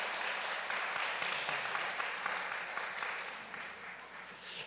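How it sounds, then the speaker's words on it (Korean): A church congregation in Daegu gives a round of applause after a child's dedication prayer during Sunday service, dense, even clapping filling the room at moderate level and slowly tapering. "다시 한번 박수하겠습니다"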